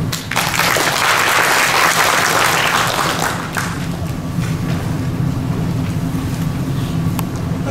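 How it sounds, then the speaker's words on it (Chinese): Warm applause from an audience welcoming a guest director onto the stage at a medical-device regulations seminar, dense and steady at first, then thinning toward the end, with no talking over it. "我们接下来热烈的掌声欢迎陈总监"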